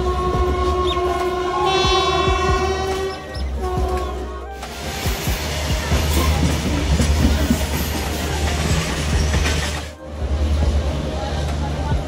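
A passenger train sounds a long, loud multi-tone horn for several seconds, then rolls on with a heavy, continuous rumble and rattling wheels close by.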